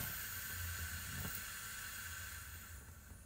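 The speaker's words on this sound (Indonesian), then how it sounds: "Sekarang kita mau goreng nasi dulu tuh." Rice fries in a pan with sliced shallots and leftover sambal, giving a steady, close sizzling hiss that runs continuously throughout.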